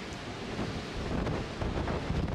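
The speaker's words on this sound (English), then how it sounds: "It is windy." Wind gusting across an open cruise ship deck in Alaska's Chatham Strait, a steady broadband rush with buffeting microphone rumble and no talk.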